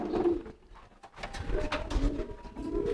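Racing pigeons in a loft coo softly nearby, low rolling calls repeating over faint background noise.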